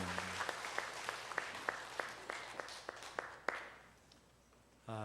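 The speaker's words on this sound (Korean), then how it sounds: "우리 하나님께 영광의 박수 올리겠습니다" A church congregation claps during a worship service: a sharp, evenly spaced run of handclaps that thins out and fades, followed by a brief louder burst at the end.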